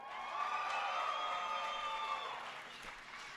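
A crowd at the 2014 X Games cheers for OpTic Gaming in a match against Evil Geniuses, a faint, distant roar of voices and scattered claps that swells and then slowly fades.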